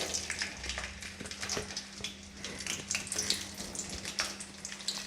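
Okra sautéing in oil for sambar, a steady watery sizzle and hiss that runs unbroken throughout, close up and moderately loud, with faint clinks mixed in and no voices.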